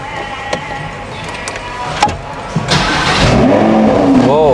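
A used Lamborghini sports car starting up, with a few faint clicks and short bursts, then the engine catching into a rising, revving roar that holds steady, close by, with some talking in the background.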